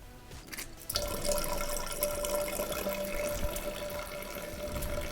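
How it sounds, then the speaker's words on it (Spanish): Water gushes from an opened tap into a container, used to fill a jug for foam testing; a steady, close, continuous rush starts abruptly after about a second and keeps running with no voices. "llenar el bidón y abrir el grifo"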